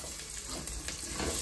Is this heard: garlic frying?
yes